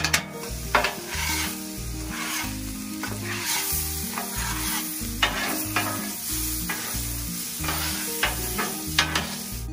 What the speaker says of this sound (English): Bring in a little bit of this pork.